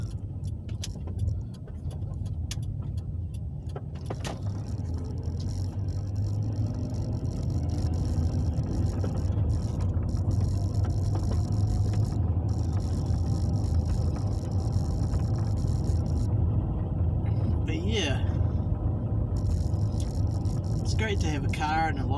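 A Nissan Pulsar N16 with a manual gearbox drives along at low speed, its engine a steady low hum inside the cabin, with occasional small clicks and rattles and someone talking.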